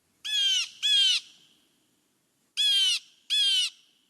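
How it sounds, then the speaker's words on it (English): Steller's jay giving four harsh, raspy calls in two pairs separated by a pause, loud and close, with no other sounds between them. "This is the Steller's jay."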